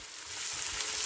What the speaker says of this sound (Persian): خوش رنگ میشن و پیازا تفت خورده